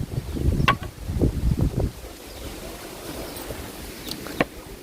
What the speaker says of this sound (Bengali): সুন্দর হাওয়া দিচ্ছে এই জায়গাটায়